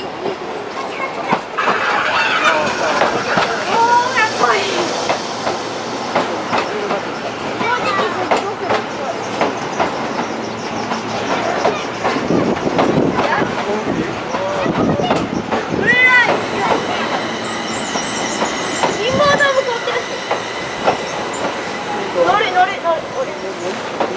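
Yokohama Municipal Subway Blue Line 4000 series train at a station, with rumbling rail noise and clattering wheels under Japanese platform announcements, rising whines and a high squeal near the end.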